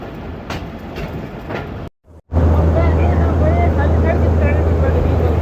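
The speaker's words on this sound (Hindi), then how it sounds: "रेलवे स्टेशन पर हम उतर चुके हैं और अभी तेज़ गाम का यहाँ से डिपार्चर होने वाला है" Tezgam express train at a railway station, a loud steady rumble and low engine drone that cuts out briefly and then returns stronger, with faint station ambience over it.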